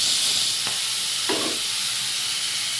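Salt-boiled vegetables fry in a pan for egg pulao, giving a loud, steady sizzling hiss broken by two brief stirring clicks.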